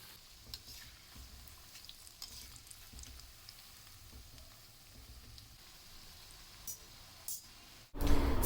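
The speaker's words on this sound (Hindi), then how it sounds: "अब तेल में मैं फ्राई करने जा रही हूँ पकौड़े" Pakoras frying in hot oil, a steady soft sizzle with faint crackles and occasional spatters, close and continuous, ending in a louder clatter.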